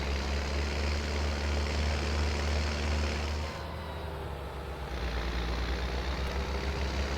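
A Deutz tractor in Farming Simulator 22 drives along a road with a steady, loud diesel drone and heavy low rumble, easing briefly in the middle before the engine picks back up, with no talking.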